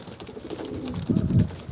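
Local Adana pigeons coo in low, throaty bursts that swell louder toward the end, with faint background noise and no speech.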